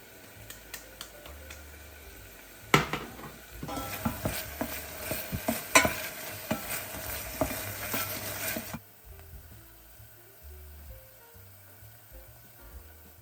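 Lard and onion fry in a pan with olive oil as a spoon stirs through them for kulish, a close crackling sizzle with scraping knocks, followed by a quieter tail.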